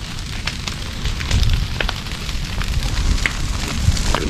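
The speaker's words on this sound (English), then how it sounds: "Good fire." A brush pile burns outdoors, giving a steady broadband crackle and roar with scattered sharp pops and snaps throughout, fairly close and continuous.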